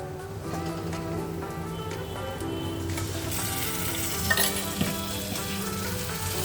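Onions fry in a pan as tomato puree goes in, a loud, continuous close sizzle with stirring that brightens and intensifies partway through, with a couple of spatula clinks.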